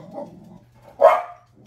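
A single sharp bark from a dog indoors, one loud burst after a soft low grumble, short and close.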